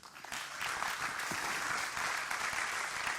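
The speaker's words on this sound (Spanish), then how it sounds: "Dale un aplauso a Dios." A church congregation claps in praise during a worship sermon, a full, continuous burst of applause filling the space.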